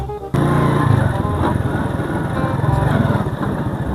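A motorcycle engine starts abruptly and runs with a throbbing, uneven putter, close and loud, idling and revving slightly.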